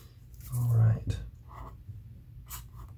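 A feather quill pen scratches across parchment paper in short strokes, quiet and close, with a low murmuring voice and breathy sounds around it.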